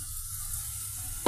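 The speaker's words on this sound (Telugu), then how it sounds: "ఆ వాటర్ ఈ విధంగా మరుగుతుందండి" About a cup of water bubbling on the stove in a container for fruit syrup, with sugar about to dissolve in it, a steady low simmering hiss throughout and a short clink near the end.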